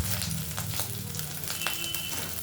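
Egg-coated cheese wrap frying in a wok gives a steady, close crackling sizzle with scattered pops throughout.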